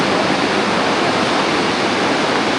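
Near Banihal, a rain-swollen river roars in a thick, steady wash of rushing water, loud and close, after days of heavy downpour.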